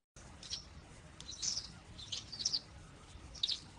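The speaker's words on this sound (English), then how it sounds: "I have this chirping sound." Faint recorded bird chirps: a handful of short, high tweets scattered irregularly over a quiet, soft background hiss, with no voices.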